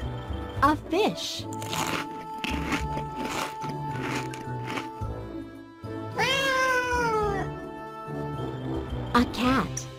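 A domestic cat lets out a long, wavering meow midway and short mews at the start and end, near and distinct, mixed with crackling, crunching noises and background music.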